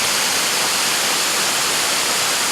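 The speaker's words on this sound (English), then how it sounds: "We just happened to stumble on this little waterfall." A small waterfall near Quinault ocean beach pours steadily, a loud, close, unbroken broadband rush of falling water with no voices.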